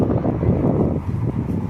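Low, blustery wind rumbles continuously against the microphone on a sunny day in Zemun, Belgrade, Serbia, a dense buffeting roar with no voices.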